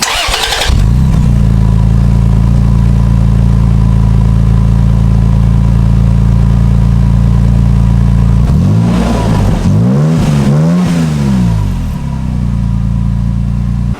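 A 2017 Toyota Tacoma engine fitted with a new Magnaflow Overland exhaust starts up and settles into a steady, deep idle nearby, with a few short blips of revving toward the end.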